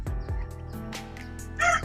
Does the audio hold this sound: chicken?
yes